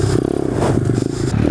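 Motorcycle ridden on a group ride, engine droning loud and close with a rough, pulsing rumble and some rattling clatter, no talk.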